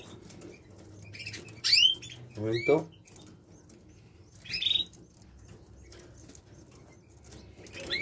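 A pigeon chick is held and ringed by hand, and its wings flap in quick bursts and it gives a few sharp high chirps nearby while someone speaks softly in Spanish.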